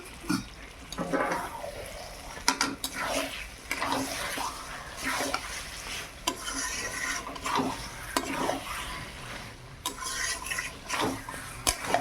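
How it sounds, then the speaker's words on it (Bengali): Meat and fried spices in a pan, sizzling while being stirred and scraped repeatedly, a continuous close hiss broken by rhythmic spatula strokes. "মশলা ভাজা হয়ে গেছে, এবার আমি মাংসটা দিয়ে দেবো।"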